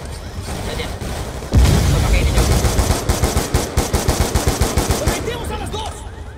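In Call of Duty: Black Ops II, rapid automatic gunfire bursts out suddenly and keeps going in a fast, even stream of loud, close shots over a constant battle din.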